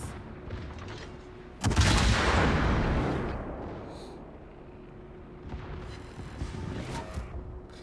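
Heavy naval guns of the German cruiser Schill in World of Warships fire in one loud, booming salvo that rolls off into a long rumbling decay, with fainter distant booms following near the end.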